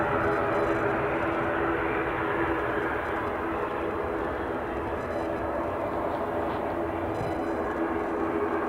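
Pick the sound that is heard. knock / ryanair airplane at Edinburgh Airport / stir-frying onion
ryanair airplane at Edinburgh Airport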